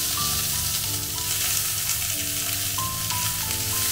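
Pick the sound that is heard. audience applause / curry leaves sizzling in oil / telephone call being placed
curry leaves sizzling in oil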